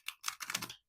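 A tarot deck being shuffled during a card reading, a close papery riffling and flicking that comes in three or four quick bursts across about a second, then stops.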